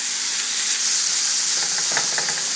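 Lemon chicken linguini ingredients sizzle steadily in a pan with a continuous hiss, while faint scraping and clinks from stirring rise toward the end; no talking.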